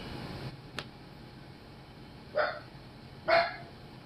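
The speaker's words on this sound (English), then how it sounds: "He only barks when I get on the camera." A dog gives two short, sharp barks about a second apart in an otherwise quiet indoor room, moderately near, with a faint click just before.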